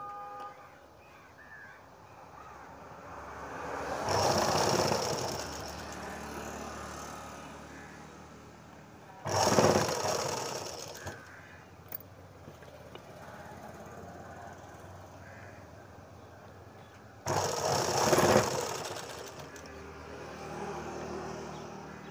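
A sewing machine stitches fabric in three separate runs of fast, steady mechanical chatter, each a few seconds long with quieter handling between, close and moderately loud.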